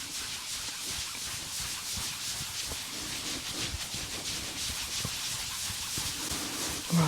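Hands rub and agitate skin around the skull during an Indian head massage, a soft, steady close-up friction hiss with faint rhythmic swishes, continuous throughout and without talk.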